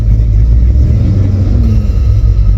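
Inside a car being driven, a loud, continuous low engine and road rumble with a steady drone and no speech.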